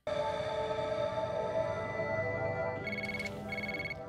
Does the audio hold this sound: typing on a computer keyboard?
no